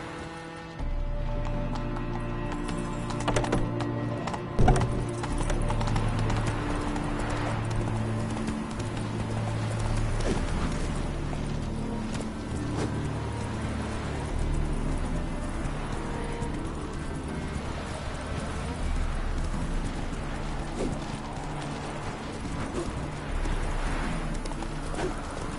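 Geralt's horse Roach in The Witcher 3, hooves clip-clopping in a steady galloping rhythm under a constant low game soundscape.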